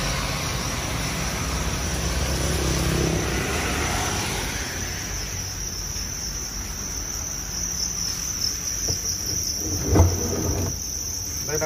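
Crickets in a breeding bin chirp in a dense, continuous, shrill chorus that stays loud and steady throughout, with a faint low background rumble underneath.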